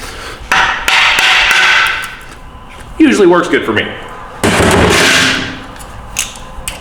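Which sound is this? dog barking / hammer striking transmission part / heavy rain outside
hammer striking transmission part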